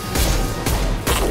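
Three heavy, booming pistol shots in Mass Effect 2, fired close and loud at roughly even intervals.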